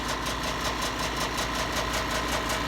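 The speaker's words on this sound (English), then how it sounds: "You hear that noise in the background, that's my air compressor" An air compressor runs steadily in a garage where a Detroit 6V92 truck engine is being worked on, a loud, close, continuous droning hum with a fast regular pulsing throb and no voices.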